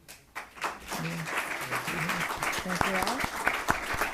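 An audience at a candidate forum for Goleta mayor and city council applauds steadily, with a steady roomful of claps running under a speaking voice at the microphone.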